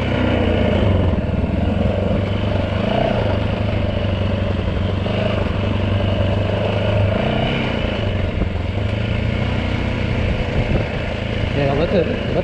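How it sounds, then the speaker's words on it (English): A Yamaha WR450 dirt bike engine drones steadily at low revs, engine braking in low gear downhill, with a rough, clattering burble, a voice speaking over it at times. "let the engine brake in low gear"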